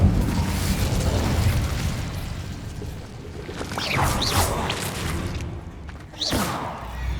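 A fire spell from Hogwarts Legacy, a roaring burst of blast and crackle that swells and then fades, followed by sharp whooshing flares near the end.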